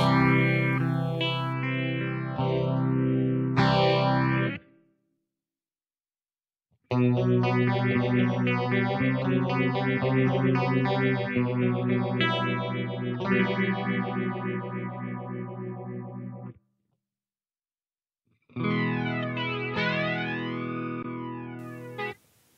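Processed electric guitar tones through a BOSS GT-1 multi-effects unit's reverb and delay swell through sweeping chorus-like modulation and echoing reverb, played in long sustained phrases separated by short silences, with no voices.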